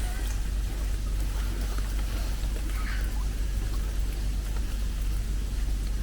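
Rain falls steadily at Blackpool Zoo, an even close hiss of drops with a low rumble beneath, continuous from start to finish.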